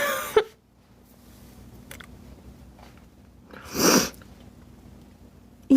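A single sharp sneeze bursts out close and loud in a quiet room during a live stream, preceded by a brief click and followed by silence.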